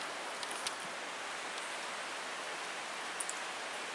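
Steady outdoor rain on a warm day near fog-covered mountains, a soft continuous hiss with a few faint drip accents and no voices.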